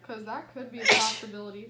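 A single sharp sneeze bursts out midway through someone's speech, loud and close, with talking before and after it.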